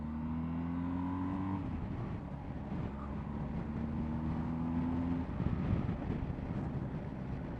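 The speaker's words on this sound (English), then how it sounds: "So go and take it on a spot of motorway riding, I think." A BMW R 1250 GS Adventure motorcycle cruising on a motorway, its steady engine drone rising in pitch through the gears, with a gear change and continuous wind and road roar, close and constant without talking.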